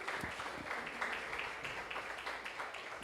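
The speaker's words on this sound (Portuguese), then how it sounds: "dê uma salva de palmas pela vida do pastor Lucas" A church congregation applauds for Pastor Lucas, a dense, steady wash of clapping throughout with no clear voices.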